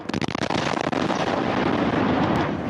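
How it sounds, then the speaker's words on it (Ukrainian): Explosions from a Shahed drone attack on a district of Kharkiv, a dense, roaring burst of blast noise that swells and stays loud throughout, with sharp crackling pops early on. "Звичайну гру у футбол в одному з районів спершу перериває гул шахедів, а потім вибухи."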